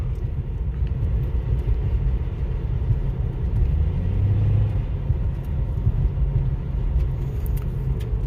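Car engine fitted with a performance air filter and modified airbox, with the intake resonator bypassed, droning steadily as a low, close rumble while cruising at part throttle, never quite reaching full throttle.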